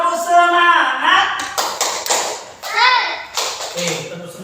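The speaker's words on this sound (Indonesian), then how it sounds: "Ayo, tepuk semangat!" Children chanting the tepuk semangat routine, a rhythmic group clapping chant, young voices singing out over quick sharp hand claps, close and fairly loud.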